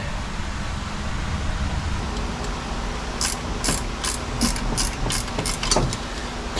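Ratchet wrench clicking in short bursts while tightening valve cover bolts on a Pontiac engine, close and fairly quiet against a steady background hum.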